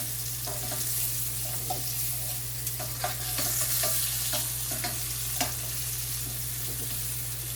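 Meatballs fry in oil in a pan with a continuous close sizzle, punctuated by occasional soft clicks and light stirring taps, steady throughout with no voices.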